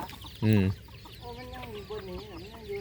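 Chickens being fed in the morning give one loud, close cluck, and then a softer, continuous murmur of clucks and calls follows from the flock.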